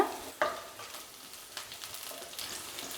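Garlic and green chillies frying in a pan for lemon pepper chicken. A soft, steady sizzle is broken by a few scraping stir strokes, heard close with no voices.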